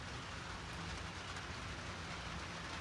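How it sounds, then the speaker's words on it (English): Rain falls over a Tennessee cattle farm near an old barn, a soft, even hiss heard from outdoors, faint and continuous with no talking. "It's raining."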